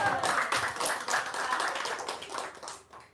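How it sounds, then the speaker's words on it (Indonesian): Studio audience clapping at a comedy talk show, a dense burst of handclaps that swells and then tapers off toward the end, with some voices mixed in. "tepuk tangan dulu dong."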